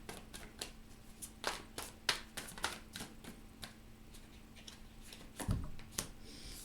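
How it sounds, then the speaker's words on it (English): Soft, quiet shuffling of a deck of cards, with irregular light riffles and flicks close by and no talking. "I'm going to go 2 more shuffles."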